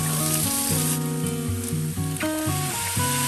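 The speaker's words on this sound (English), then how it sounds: "Then add the garlic and the ginger into the pot." Garlic and ginger stir-fry in a pot, giving a soft, steady sizzling hiss beneath prominent melodic background music.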